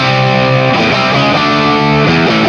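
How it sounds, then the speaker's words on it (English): Distorted electric guitar through a Marshall JCM 800 preset on a TC Electronic Nova System plays a loud, crunchy run of changing notes and chords, thick with gain, with no talking. "This I thought this kind of sounded like a Marshall JCM 800"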